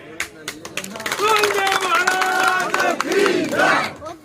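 A crowd at a Rajasthan political gathering raises loud, sustained chanting and battle-cry shouts over scattered clapping, rising and falling in waves close by, with voices dominating throughout.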